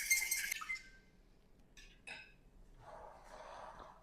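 Glass clinks and scrapes as a marinade is mixed in a glass bowl without a whisk, a cluster of bright chinks at the start, then a few sparse taps and a softer rubbing stir, fairly close with no speech.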